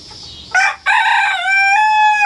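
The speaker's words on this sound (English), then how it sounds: "He was the first one that started crowing, and he crows a lot." A young rooster about 15 weeks old gives one loud, close crow, a short clipped opening note followed by a long, drawn-out strained call, heard alone.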